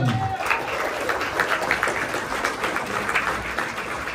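Comedy show audience applauding the host, a dense wash of clapping and crowd noise at moderate distance, steady throughout after a brief voice at the start.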